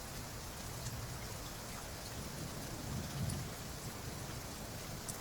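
Steady rainfall with distant thunder, a constant broadband hiss of rain and a soft low rumble swelling briefly in the middle, with no voices.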